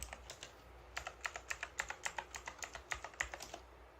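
Quick keystrokes on a computer keyboard as a command is entered at a Linux terminal, a close, quiet run of about twenty clicks in an even rhythm lasting a few seconds.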